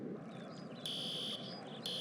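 A fire alarm sounds in a building during a false alarm, sounding as loud, steady electronic tones that cut in and out in two bursts over constant background noise.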